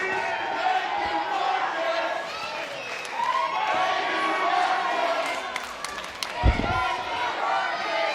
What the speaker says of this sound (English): I don't know why the crowd cheers this guy.